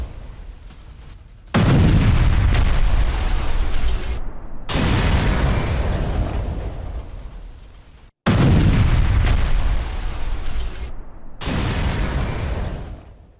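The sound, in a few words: Russian air strike dropping FAB-500 bombs in Kherson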